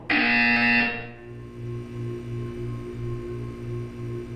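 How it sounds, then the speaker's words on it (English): A loud electronic buzzer tone in the video game Portal 2 blares for about a second, then fades into a low, steady pulsing hum. "When you hear the buzzer, look down at the floor."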